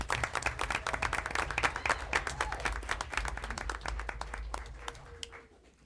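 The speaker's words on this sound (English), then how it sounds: "A round of applause." Applause breaks out at a Milford city council meeting for a newly promoted police sergeant, the first woman in the role. A room of people claps steadily for several seconds, then the clapping thins and fades out at the end.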